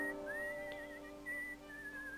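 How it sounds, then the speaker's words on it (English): A character in the Broken Sword: Shadow of the Templars adventure game whistles a wavering tune, clear and steady over a faint background hum, with no talk. "You keep whistling, boy. Keep whistling."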